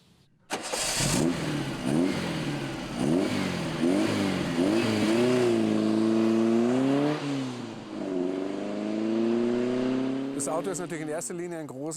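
A Volkswagen Beetle's rear-mounted engine starts with a sudden catch, then revs up and down in repeated throaty surges before settling into a steady idle, up close, with voices briefly at the end.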